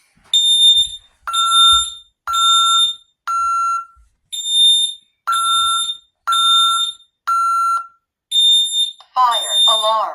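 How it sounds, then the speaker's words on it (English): An ADT Safewatch Pro fire alarm panel sounds its loud, high-pitched electronic horn in a steady run of about ten short bursts with brief gaps, close and piercing, and a voice speaks near the end. "Fire alarm. This is so loud."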